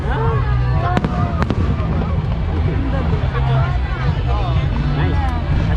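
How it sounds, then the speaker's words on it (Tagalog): Fireworks in the Philippines pop and crackle at a distance, with a couple of sharper bangs near the start. Crowd babble and nearby talk run steadily underneath. "Oh, they're fireworks."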